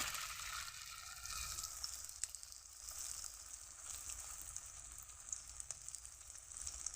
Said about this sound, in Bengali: এরকম করে আমি একে একে সবগুলো তেলের মধ্যে দিয়ে দেবো